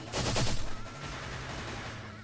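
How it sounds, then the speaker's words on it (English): A stand's barrage attack in a JoJo video game fires as a rapid burst of punching impacts, loudest at the start and then tapering into a steady, busier game-sound background. "So yeah, here's the barrage. It reaches very long."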